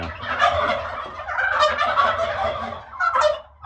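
A turkey gobbling in a farmyard where a hen is sitting on eggs in January: several loud, rapid rattling gobble bursts, close and clear, with no talk over them.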